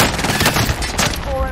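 Rapid automatic gunfire from the Call of Duty: Warzone video game, loud, dense bursts filling a short stretch with game sounds behind.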